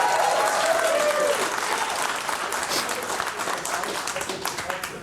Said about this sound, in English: let's have a round of applause for Andy